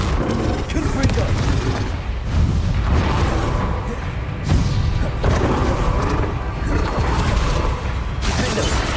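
Repeated booming spell blasts from Confringo in Hogwarts Legacy combat, dense loud explosions layered with other spell effects, with a voice heard over the chaos.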